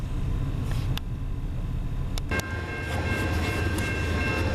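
A heavy diesel freight train led by a Norfolk Southern SD70ACe locomotive rumbles past nearby in Ladysmith in a steady, loud roar, with brief bright squeals and clanks from the wagons.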